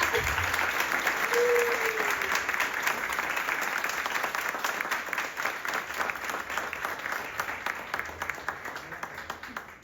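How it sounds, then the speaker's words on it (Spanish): Audience applause at an LGBTIQA+ panel discussion, a dense steady wash of many hands clapping that starts full and slowly thins toward the end, with a brief voice sound early on. "por favor un aplauso, que se sienta"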